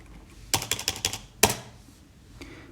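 Computer keyboard typing while coding: a quick run of about seven crisp keystrokes, then a single louder key press and one faint tap, close and clear with no voices.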